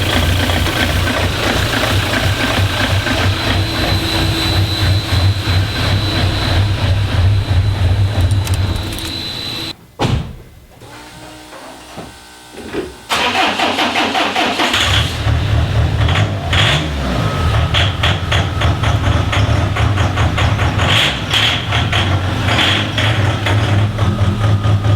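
A JD DervBus engine fires up for its very first start, running with a steady loud mechanical clatter, cutting out briefly near ten seconds, then roaring back and settling into a continuous run.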